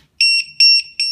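A Matek Systems 3-in-1 low-voltage alarm buzzer beeps three times in a steady rhythm, each a loud, shrill, piercing tone close up with short gaps between.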